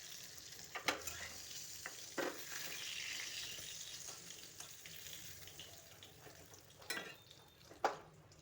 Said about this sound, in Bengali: একটু লাল লাল করে পটলগুলি ভাজবো।